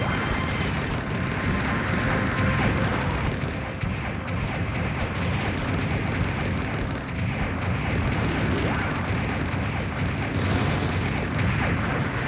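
Gun cannon fire in a Gundam video game, a dense barrage of booms and blasts rolling continuously over a loud battle din.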